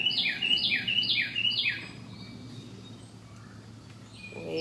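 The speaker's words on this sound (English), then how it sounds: "Good morning, birds." Morning birdsong rings out at the start, a bird repeating a bright, descending chirp about five times in quick rhythm; the song then fades to quiet background with a brief call near the end.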